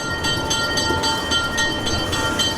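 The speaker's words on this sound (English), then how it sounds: "We're catching that train." A train to Cusco departs on the Machu Picchu route, giving a steady loud rumble with rhythmic clacking pulses and a faint tonal whine from the running gear.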